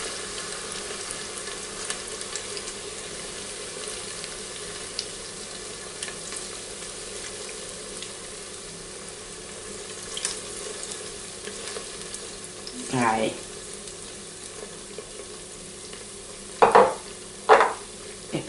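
Tempura-battered pork loin deep frying in oil in a basket, a soft, steady bubbling hiss held low under the room tone, broken late by a few sharp clanks and bumps.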